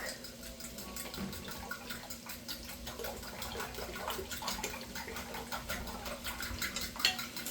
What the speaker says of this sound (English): now let me get my fork. And I'm gonna beat those eggs.